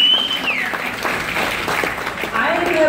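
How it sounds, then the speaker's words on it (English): An audience gives a round of applause after a live performance, a steady wash of clapping heard at moderate level with a sustained tone running under it. "Let's give her a round of applause for them."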